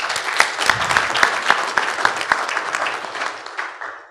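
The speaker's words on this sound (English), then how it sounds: "I think we should give him a round of applause." A crowd at a NABF speech applauds, many hands clapping in a loud, dense burst that holds steady before thinning out toward the close.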